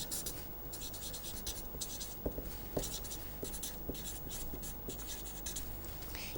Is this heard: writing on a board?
yes